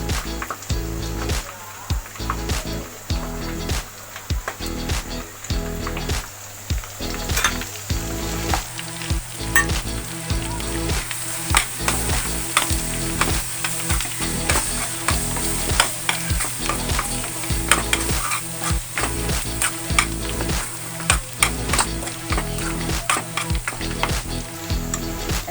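Gram flour with ground spices, garam masala and cumin powder frying in oil in a pan, a loud, continuous sizzle broken by rapid, rhythmic scraping and tapping of a spatula against the pan.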